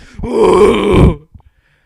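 A voice lets out one long, strained groaning moan imitating a dying moose, loud and close, then breaks off into a couple of short breaths.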